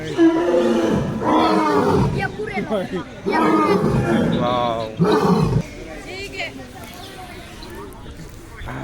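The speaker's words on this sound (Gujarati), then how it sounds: "જો ગર્જના કરે તમને રિયલ વોઇસ બતાવીશ" Deep, rough animal roars sound repeatedly amid a chattering crowd at Sakkarbaug Zoo in Junagadh, with a person exclaiming between the calls.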